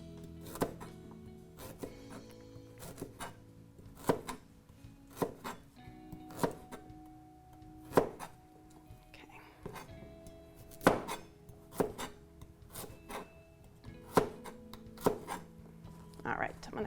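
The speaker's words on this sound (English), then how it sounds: "cutting up the veggies can be something that you're doing while the other ingredients are boiling" A knife chops vegetables on a cutting board during a kitchen cooking demonstration, giving sharp, irregular thuds spaced about a second apart, with faint clinks between them.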